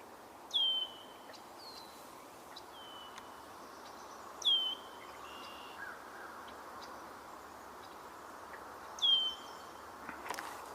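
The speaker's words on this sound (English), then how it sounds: "I'm hearing some sounds like alert calls from the red-winged blackbirds." Red-winged blackbird alert calls ring out outdoors as three short, sharp downward-slurred notes spaced a few seconds apart, moderately near, over a steady insect and ambient hum with faint other birds.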